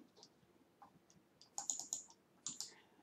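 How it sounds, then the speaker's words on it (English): A computer mouse clicks in Visual Studio during coding work, with a few quiet, scattered clicks followed by a short burst of sharper, closer clicks over faint room hum. "Click on right click and then add class."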